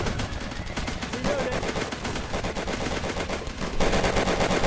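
Rapid gunfire crackles without pause in the World War 2 shooter Easy Red 2, dense bursts of automatic and rifle shots layered over battle noise, growing louder near the end.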